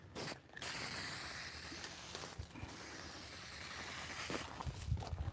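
A long, steady hiss of an aerosol can spraying sealant onto wood, held for several seconds after a brief start, close and fairly loud, with no talking.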